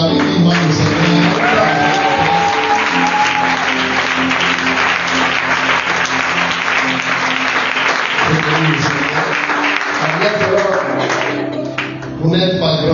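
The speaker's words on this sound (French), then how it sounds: "On peut acclamer vivement le Seigneur." A church congregation applauds loudly and continuously, dense sustained clapping filling the hall for over ten seconds before easing slightly at the end, with some voices and cheering mixed in.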